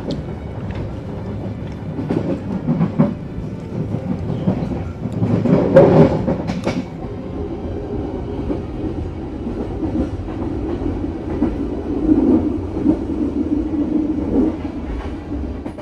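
Steady rumbling of a Pasundan passenger train running from Bandung to Jogja, heard from inside the carriage, with a continuous low roll, faint clicking wheel rhythm and a brief louder surge partway through.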